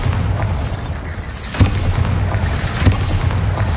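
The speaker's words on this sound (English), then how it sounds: "Bombarda." Bombarda spell explosions in the video game Hogwarts Legacy: two sharp, heavy booms about a second apart rise over a continuous low rumbling bed, with no voices.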